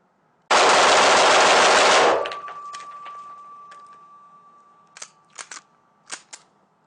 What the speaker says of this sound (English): It was impossible for me to control the recoil while I was shooting.